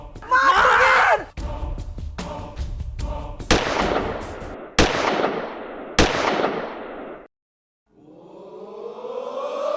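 Gunshot sound effects in a Hindi comedy show come as several sharp, loud bangs with ringing tails, the first after a scream. A brief silence follows, then a rising tone.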